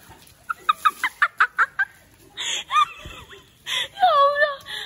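A rapid run of sharp clucks from a nearby chicken, followed by squawky, warbling calls and bursts of noise, loud and close.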